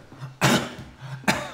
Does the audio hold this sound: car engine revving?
no